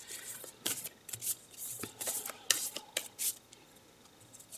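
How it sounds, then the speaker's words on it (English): Quick papery riffles and flicks of playing cards being shuffled, in short irregular bursts close by, with soft pauses between. "I have a funny way of shuffling the cards"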